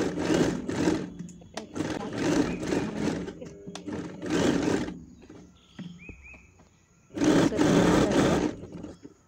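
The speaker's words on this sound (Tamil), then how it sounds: "நான் லைனில் தைச்சி எடுத்துக்கிறேன்." A sewing machine stitches a neckline on plain fabric in several loud, close bursts of rapid whirring separated by pauses, with a voice talking between runs.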